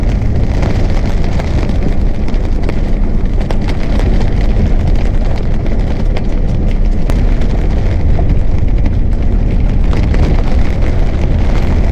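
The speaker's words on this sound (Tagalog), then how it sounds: "Grabe ng lakas ng ulan." Heavy rain pours down in a dense, steady roar that stays loud and unbroken from start to finish, with no voices.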